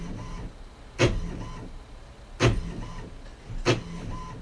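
A printer runs while a cat tampers with it, a low mechanical whir broken by three sharp clunks spaced about a second and a half apart, close and moderately loud.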